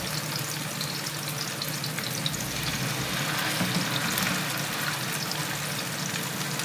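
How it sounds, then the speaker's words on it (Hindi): Chapli kababs sizzle steadily in a pan over a slow flame, a continuous close crackling fry with no one speaking. "अब मैं इसे वन साइड को आराम से स्लो फ्लेम पर पकने दूंगी"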